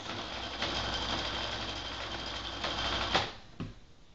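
A sewing machine stitches a dress hem with the presser foot down, a steady close mechanical whirring and clatter that runs for several seconds, then slows and stops near the end.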